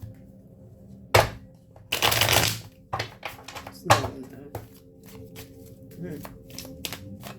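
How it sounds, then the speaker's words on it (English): Tarot cards are shuffled in a few quick riffling bursts and snaps, followed by lighter taps and handling, with a voice speaking briefly. "I never said I could shuffle"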